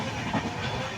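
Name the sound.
Vivek Superfast Express train running at speed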